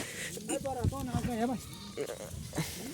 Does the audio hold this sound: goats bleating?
yes